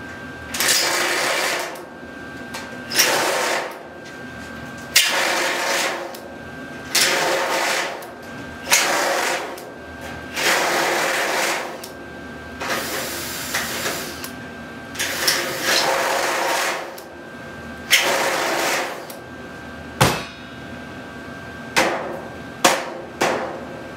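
A drill bit bores out stripped screw holes while a large shelving unit is put together in a workshop. The bursts run loud and close in repeated uneven spells of a few seconds each, with short pauses between them and no voices.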